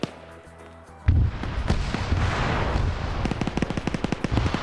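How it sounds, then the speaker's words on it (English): Heavy gunfire in a PvP shooter video game, a quiet lull broken by a sudden loud crack, then a dense rattle of rapid shots and whizzing rounds that carries on near and loud. "You can hear the bullets whizzing over."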